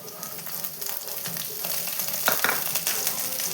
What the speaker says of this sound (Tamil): இப்போ பாருங்கள், பூண்டு காஞ்ச மிளகாவும் நல்லா வதங்கிருச்சு